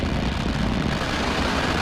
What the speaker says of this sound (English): And liftoff. Go Falcon,